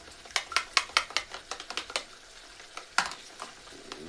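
Eggs whisked in a bowl for Kenyan ugali mayai, a fork or spoon clicking against the sides in quick, close, irregular strokes, with a short pause and then a few more taps.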